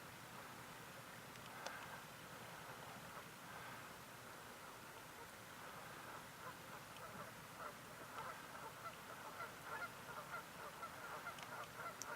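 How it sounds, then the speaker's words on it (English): Geese honk alarm calls repeatedly at a distance as they take off, their calls scattered over a steady outdoor hiss with no talking. "I can hear some geese down here"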